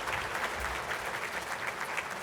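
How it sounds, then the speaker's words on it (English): Steady applause from an audience at an annual business meeting fills the whole moment, many hands clapping at once in a dense, even wash, heard from some distance. "A big hand of applause."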